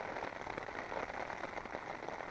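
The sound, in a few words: rain falling on a winter camp on Ireby Fell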